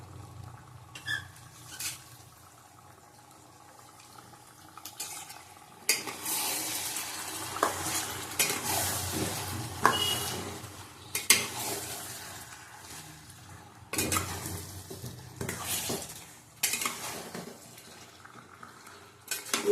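Meat marinated in yogurt, salt and turmeric being sautéed in a pan for chicken kosha, quiet sizzling under repeated clinks and scrapes of a spatula against the pot, busier in bursts.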